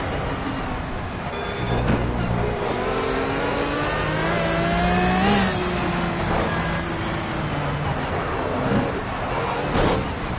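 Pagani Zonda Revolucion engine in the Project Cars racing game on the Nordschleife, revving hard through rising and falling gear sweeps, loud and continuous with close high-pitched whine.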